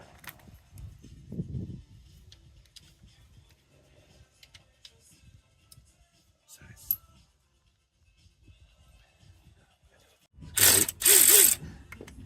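Ratchet loosening flywheel bolts on a T1N Sprinter van while replacing a cracked flex-plate: a loud, rapid burst of ratcheting clicks near the end, close up, after quieter stretches with low talk and small clunks.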